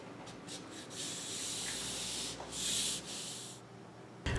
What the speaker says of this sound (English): Cleaning the surface with isopropyl alcohol is super important.